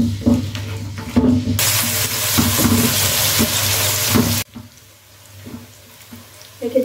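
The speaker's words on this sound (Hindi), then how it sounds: "शामिल कर लेंगे 2 मीडियम साइज़ के प्याज और इन्हें अच्छे से फ्राई कर लेंगे।" Two medium onions frying in about a cup of oil in a kadai give a steady broadband sizzle that swells loudly for a few seconds, then drops to a quieter hiss with faint clinks and stirring.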